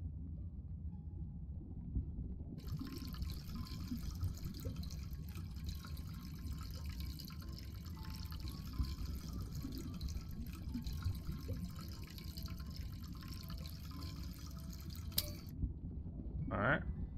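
Chocolate liquor poured from a pot in the video game Chocolate Factory Simulator, heard as a soft, continuous liquid stream and trickle lasting several seconds. A person talks quietly over it.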